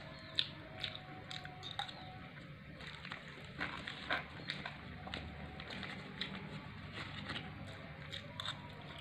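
Crunchy tempeh and crackers chewed close up, quiet irregular crisp bites and crackles spread through the moment with no talking.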